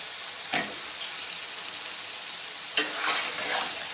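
Chicken biryani masala with potatoes sizzles in a pan under a steady frying hiss, with two sharp scraping stirs about two seconds apart, the second followed by a brief surge of sizzle.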